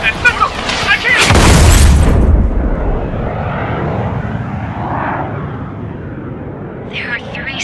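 Ace Combat 7: Skies Unknown fighter-jet game: an approaching aircraft roars in with a loud booming rush, swelling then settling into a sustained engine drone, alone with no talk.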